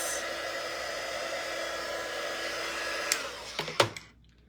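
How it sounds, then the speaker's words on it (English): A handheld dryer blows steadily on a summer truck craft door hanger, a loud, even rushing hiss lasting about three seconds before it shuts off with a few clicks and handling knocks. "I'm gonna hit this with the dryer."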